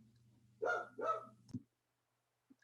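A dog gives two quick, close barks followed by a short muffled yip, then silence.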